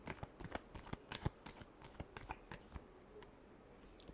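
Tarot cards being shuffled, a quiet run of crisp riffling flicks and soft slaps in irregular bursts, close up and alone.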